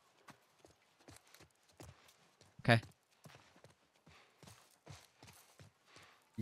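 Rhythmic hoof clip-clop of a horse at a walk in The Last of Us, steady and fairly soft, with a louder thump midway and a few quiet voice sounds.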